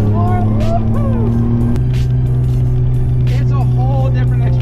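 A 1997 Mitsubishi 3000GT VR4 engine pulls hard under throttle, a loud steady drone rising in pitch from inside the car, with a shift-like drop partway through and faint voices over it.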